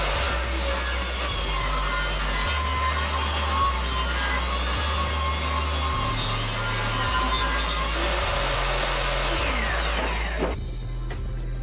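A power saw rips a 2x4 lengthwise into narrow strips, a steady loud whirring cut with the motor pitch shifting as the blade works through the wood, then spinning down near the end.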